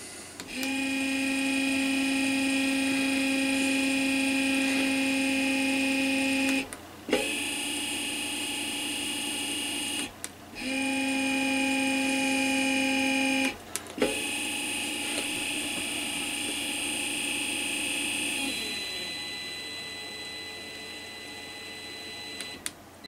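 An electric motor driven by a Darlington transistor circuit (MJ10005 on a heat sink) whines steadily, its tones cutting out briefly twice and shifting pitch near the end, loud and alone.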